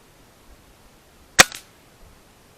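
A single sharp gunshot fired at a bird outdoors, one loud crack with a short echoing tail, standing alone against a quiet background.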